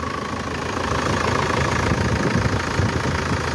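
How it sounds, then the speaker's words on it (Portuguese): A 2000 Ford Ranger 4x2 diesel pickup idles close up with a loud, steady, even knocking rumble and no talking, at an outdoor used-car fair. "Boa de motor, o batidão dela tá bom"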